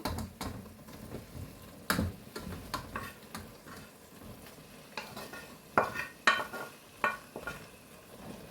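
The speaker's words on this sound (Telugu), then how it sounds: "ఇంక దీంట్లోకి చికెన్ వేస్తానండి, చూపిస్తాను నేను." Chicken pieces for a Kerala-style chicken chukka go into a hot pan and are stirred, giving a soft sizzle broken by irregular clinks and scrapes of a spoon on metal.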